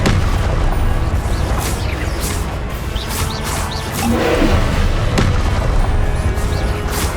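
Spell explosions crackle and boom in Hogwarts Legacy, a dense, loud barrage of bursts and blasts layered over constant rumbling combat noise.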